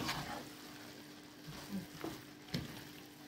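Sausage pieces sizzling and frying in a pan with tomatoes and a spice mix, a soft continuous crackle broken by a few sharp stirring scrapes, fairly quiet and close.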